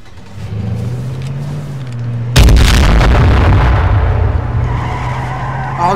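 A grenade goes off in H1Z1 King of the Kill, a sudden loud blast midway that cuts in over a low engine hum and leaves a long, rumbling noisy tail.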